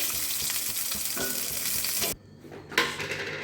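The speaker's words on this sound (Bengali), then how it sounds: "সর্ষের তেলের মধ্যে বাটা মাছগুলো ছেড়ে দিলাম।" Steady, loud sizzle of bata fish frying in hot mustard oil, a dense crackling hiss that briefly drops off and then resumes.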